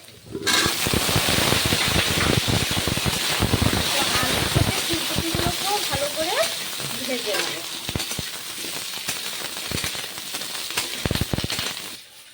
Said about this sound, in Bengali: ফুলকপিটা ভাজা হতে হতে